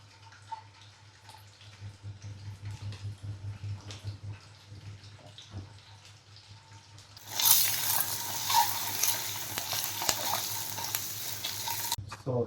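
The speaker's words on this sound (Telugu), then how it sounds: "ఈ బాయిల్ చేసుకున్న ఎగ్స్ అయితే దీంట్లో వేసేద్దాం మనం" Boiled eggs drop into hot oil with masala; after a quiet stretch, a loud, sudden burst of sizzling breaks out and keeps crackling to the end.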